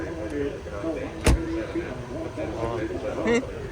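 A single solid thud as the door of a 1989 model car is shut once, a sharp close impact near the middle, set among outdoor background murmur.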